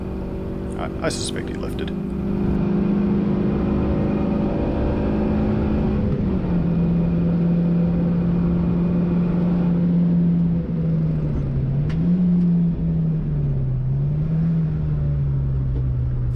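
A Toyota Vitz racing at Pukekohe track, its engine a loud sustained in-car drone that rises and falls through gear changes and throttle lifts, with a voice speaking briefly near the start.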